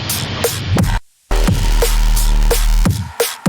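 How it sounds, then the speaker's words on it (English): Electronic music track with a steady four-on-the-floor kick pattern, loud thumping beats at regular intervals with a sub layer and bright hats, cutting out briefly for a short gap before the beat resumes. "Very head noddy, head bangy, 4 on the floor thing."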